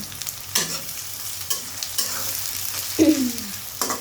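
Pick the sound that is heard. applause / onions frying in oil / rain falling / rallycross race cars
onions frying in oil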